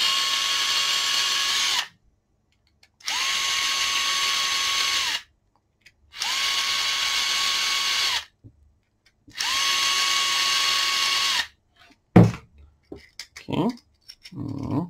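A power tool whirs in four even bursts of about two seconds each, separated by short silences, as it backs out pre-installed screws on a Titanic model kit, followed by light clicks and handling noises.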